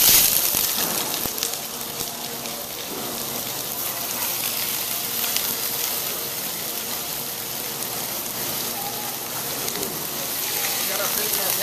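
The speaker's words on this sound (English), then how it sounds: "We got our fish in our pan, we're putting a little color on it." Fish fillets searing gently in a medium-hot pan for a classic all-purpose fish stock give a steady, broad sizzle that holds for the whole stretch, with a voice talking over it.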